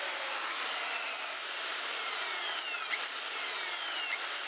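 A power drill bores holes through a wooden board for a homemade swing's rope, whining steadily with slow pitch glides as the bit loads and unloads, fairly close and unbroken by talk.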